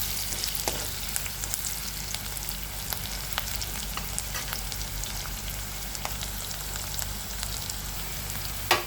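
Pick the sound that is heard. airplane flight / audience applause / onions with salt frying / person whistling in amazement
onions with salt frying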